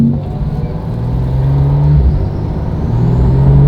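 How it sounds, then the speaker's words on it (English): A Porsche 911 GT2 RS (991) with an IPE exhaust and catalytic converters removed drones steadily, a rising turbo whir layered on top, building gradually in loudness as it accelerates in PDK Sport mode, close and continuous. "So I hear a lot of turbo noise."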